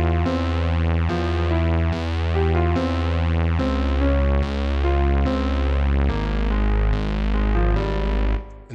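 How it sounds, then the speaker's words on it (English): Custom composed theme music for Metaliteracy, a steady full-band piece with regular rhythmic chord changes and a heavy, slightly distorted texture, playing loud and alone throughout. "We composed a custom Metaliteracy theme that sounds like this."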